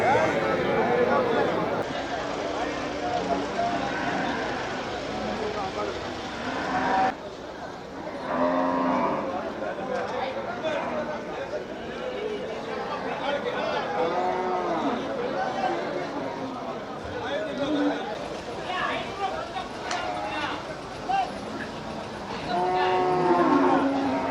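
Cattle, including dairy cows, moo repeatedly throughout at a busy livestock market in Melapalayam, with several animals calling at varying distances over constant crowd chatter and people talking.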